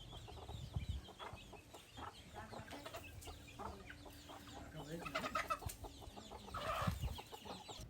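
Vanaraja and Giriraja chickens clucking and murmuring nearby on a farm, with a few louder squawks among the flock and faint background noise.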